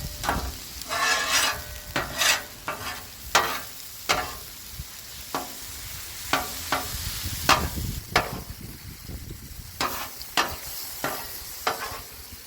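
Onions sizzle on a Blackstone griddle outdoors, a steady close frying hiss broken by repeated scraping strokes of a spatula across the flat top, with no voices.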